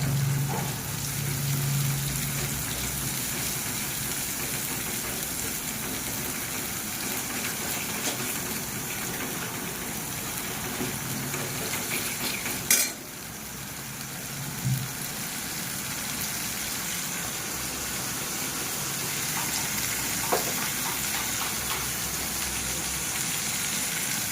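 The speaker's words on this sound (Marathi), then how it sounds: "हलवायचा मसाला. हलवून घ्यायचा मसाला." Masala frying in a pan for a mutton curry and being stirred, a steady low sizzle throughout with a couple of brief scraping knocks midway.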